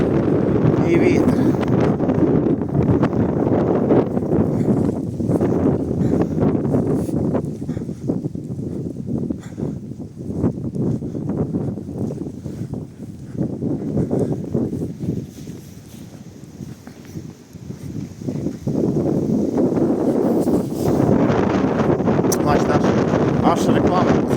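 Strong wind in Truskavets, Ukraine roars and buffets the microphone in heavy gusts, easing briefly in the middle before surging loud again.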